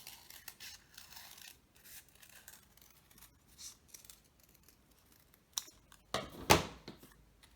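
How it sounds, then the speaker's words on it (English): Scissors cutting a circle out of folded white construction paper, a series of quiet close snips and paper rustles, ending in a few sharper, louder cuts. "cut a circle out"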